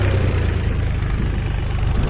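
A Mahindra Yuvo 405 DI 4WD tractor hauls an oversized implement dug deep into the soil, its engine a loud, steady, close-up drone with no break.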